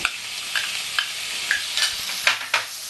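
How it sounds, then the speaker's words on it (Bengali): Sweet corn with yellow and red bell peppers fries in butter in a pan, a steady close sizzle broken by repeated scraping strokes of a stirring spoon, roughly one every half second. "এটা একটু বাটারে নাড়তে থাকবে"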